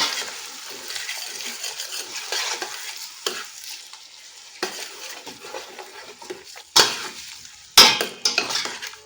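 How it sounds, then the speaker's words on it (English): Onions and Scotch bonnet pepper frying in a pot, with a constant close sizzle broken by stirring strokes and a few sharp utensil knocks against the pot near the end, with no talking. "I'll give it a good stir and let it fry for a few minutes."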